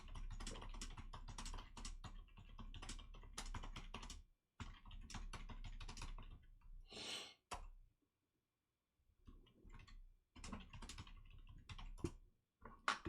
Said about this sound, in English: Why are you typing to them?